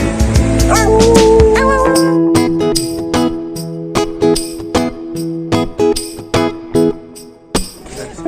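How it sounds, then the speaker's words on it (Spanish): A dog yips and barks in short, sharp bursts at a beach in Salvador, Bahia, after a few seconds of loud background music, the calls spaced irregularly and fairly close. "Y este perro que es el más feliz del mundo, por Dios."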